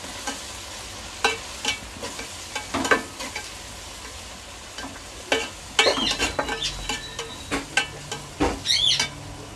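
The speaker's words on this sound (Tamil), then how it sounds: "இப்போ நல்லா இது வதங்கட்டும்" Onions, coriander and mint sauté in a pan for mushroom biryani, with frequent spatula stirs and scrapes over a soft continuous sizzle, close up and with no talking.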